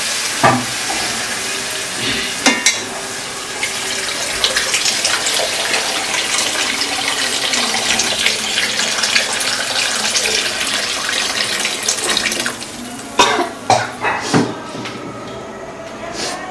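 Water poured into a cooking pot while making khichuri, a bright steady rushing pour that fills the middle, with clatter and a few sharp knocks at the start and near the end.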